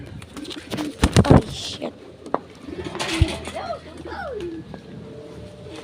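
Pigeons cooing close by in soft, low, wavering calls, mixed with a few sharp clattering knocks and a voice speaking briefly.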